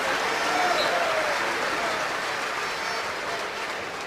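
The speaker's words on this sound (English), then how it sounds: "warm applause for the man he's replacing" Football stadium crowd at Old Trafford applauding Luis Figo as he is substituted in a Manchester United Legends versus Real Madrid Legends match, a steady broad wash of distant clapping and crowd noise throughout.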